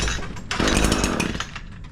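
An Echo PAS-225 weedeater engine sputters and catches, a short buzzing burst of a small two-stroke motor close by with no one talking.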